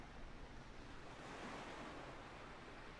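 Soft, continuous wash of ocean water and surf in a flight simulator game, off the coast of Sardinia, Italy, low and steady with a faint wind-like hiss, no voices.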